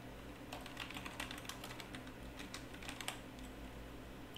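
Fingers type a search term on a computer keyboard in quick irregular clicks, faint and close, over a steady background hum with no voices.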